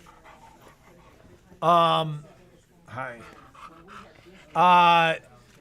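A dog in a store gives two loud bursts of rough panting or whining a few seconds apart, with faint shop ambience and a brief voice in between.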